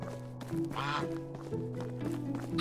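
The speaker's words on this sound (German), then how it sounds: "Und hier haben wir nur Gänse." Geese in the Medieval Dynasty video game give quiet, repeated nasal quacking calls in a short burst against a soft steady background hum.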